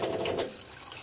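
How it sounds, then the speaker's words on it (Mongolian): Water runs from an Amway eSpring filter tap in a steady, close hiss that softens slightly over a brief moment, with no voices. "тэгээ нэг юм уу 2 минут ч юм уу 3 минут гоожуулж байгаа. Усаа гоожуулж байгаа."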